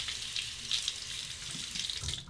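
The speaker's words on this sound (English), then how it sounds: "let's rinse that" Water runs steadily from a tap as a Fatip Piccolo combo razor is rinsed under it, a close, continuous hiss and splash with faint shifts as the blade moves through the stream.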